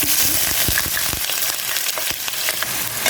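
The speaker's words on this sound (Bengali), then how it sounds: "এই যে এখন পেঁয়াজটাকে আমি একটু ব্রাউন করে নিব" Sliced onions frying in hot oil with bay leaves, cardamom, cinnamon and cloves for a tripe (bot) bhuna, a steady close sizzle broken by a few sharp clicks of stirring.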